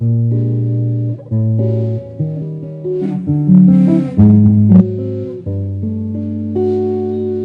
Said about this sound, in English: I've got a very jazzy tone here, all inside this one guitar.